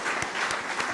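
A brief burst of audience applause for Pakistani national hero Arshad Nadeem at a celebration event, dense and steady clapping heard alone.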